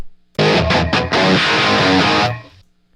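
Heavily distorted electric guitar with serious overload, played loud and alone in one sustained burst of a few seconds with quick stabbed notes before a long ringing chord that cuts off.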